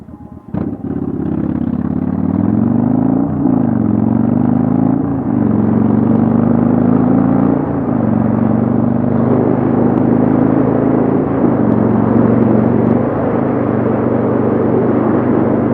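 A vehicle cruises down the road, its loud engine rumbling close by with a steady drone. Repeated gear-like pitch shifts rise and fall every couple of seconds, and rattling clatter sits on top.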